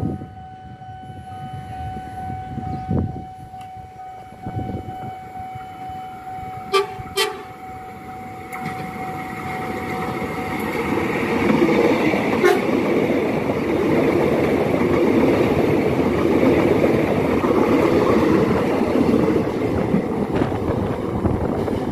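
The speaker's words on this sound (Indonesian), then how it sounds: "Oh, kereta bandara nih" An airport train, an old Tokyu 8500 commuter unit, approaches and rumbles past, growing steadily louder into a sustained roar, with a long horn tone early on and clanking metallic hits.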